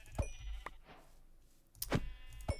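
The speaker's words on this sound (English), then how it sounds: "I'm going to kill these sheep so I can make a bed" Minecraft sheep bleat in short, nasal bursts, about four quick calls spaced unevenly over a couple of seconds, fairly close and clear with no talk over them.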